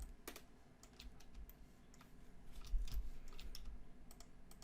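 Rapid, light clicking and tapping from a computer mouse and keyboard while selecting edge loops in 3D modeling software, a quick irregular patter of small clicks at low volume in a quiet room.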